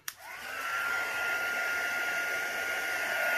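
A hair dryer blowing air over alcohol ink on resin coasters, clicking on with a brief thump and then holding a steady, loud whooshing hum, close up with no talk.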